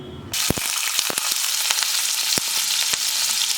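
Chopped potato, onion, tomato and green chilli for an egg curry drop into hot oil and burst into a loud, continuous sizzle, with scattered sharp clicks of a utensil on the pan, close by and without talk.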